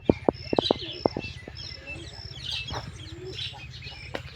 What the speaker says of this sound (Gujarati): અહીં છે મારા કબૂતર હીરા કબૂતર